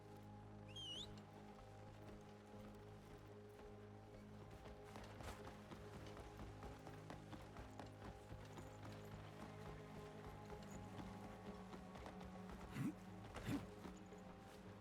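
A summoned horse's hooves clip-clop at a steady rhythmic pace in the open-world action game Crimson Desert, faint and continuous under ambient game music and scattered effects.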